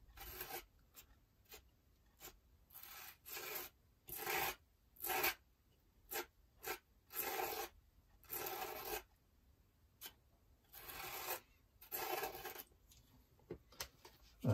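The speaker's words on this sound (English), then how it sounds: "Pick a little bit off that and then just gently scrape that through" Spatula scraping craft paste across a stencil, close and quiet, in repeated short rasping strokes of uneven length with brief pauses between them.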